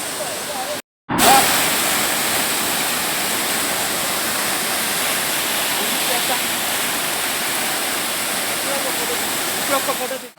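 Waterfall at Srisailam roaring as a loud, steady rush of falling water that fills the whole clip after a brief dropout near the start.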